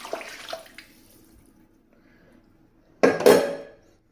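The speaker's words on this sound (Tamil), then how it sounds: "அதுக்கு இன்னும் 4 டம்ளர் தண்ணி ஊற்றிக்கிடுங்க." Water poured from a tumbler onto rice in a pot for fenugreek rice, a short splashing burst arriving late after some faint kitchen clinks, fairly close and alone.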